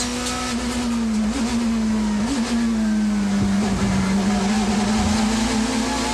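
A 1990s touring car races at Donington Park, its engine holding a loud, steady drone with brief pitch dips and rises as it shifts down and back up through the gears.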